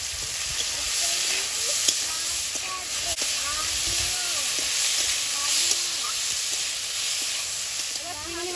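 Chopped tomato and elephant foot yam stems fry with garlic and nigella seeds in a pan, giving a continuous loud sizzle and hiss while someone talks over it.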